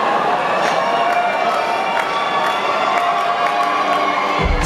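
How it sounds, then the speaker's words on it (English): A concert crowd at Santa Monica Civic cheers and applauds in a steady, loud roar of claps, whoops and shouts that fills the whole stretch, with no speech over it. "big round of applause for Nicky there, gentlemen"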